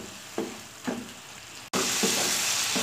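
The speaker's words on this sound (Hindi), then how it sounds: "चिकन अच्छे तरीके से पक रहा है" Chicken frying in a pan, a continuous hiss of sizzling punctuated by a few stirring scrapes, growing suddenly louder partway through as the sizzle intensifies.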